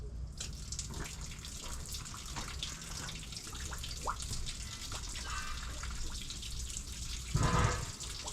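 Water pours steadily and splashes as it overflows, a continuous close trickle with dripping and a louder gush near the end.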